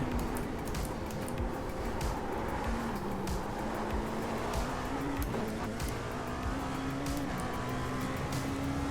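Race cars lapping in the iRacing sim racing game on a short track among GT3 cars: a steady engine drone whose pitch rises and falls, with other cars passing close by, continuous and fairly quiet.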